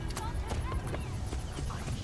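Horse hooves clip-clopping in the Assassin's Creed Origins video game, a steady run of close hoof beats mixed with background game sounds and voices.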